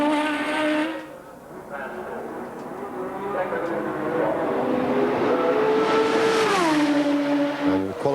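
A Formula One car with a BMW engine on a 1986 Australian Grand Prix qualifying lap gives a loud, close, high-pitched engine whine that rises and falls with revs, dropping sharply at a gear change near the end.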